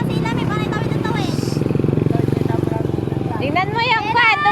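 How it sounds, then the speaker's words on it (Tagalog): Motorcycle passing on a road by Arenas Bridge in Pangasinan, a moderate engine rumble running under continuous nearby chatter from several people. "Tingnan mo yung kwan, dumadaan na motor"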